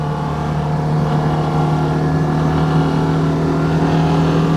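A Citroen 2CV engine in unhealthy condition, long due for replacement, runs with a loud, steady, droning hum and a faint rough edge, heard close up and alone for several seconds.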